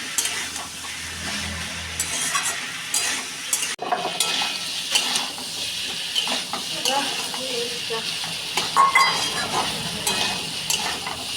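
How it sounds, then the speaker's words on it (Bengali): Potatoes frying with salt and turmeric for aloo posto, a moderate sizzle with intermittent stirring and clinks of utensil against the pan, close and steady with no talking. "আলুটা ভাজা হয়ে গেছে।"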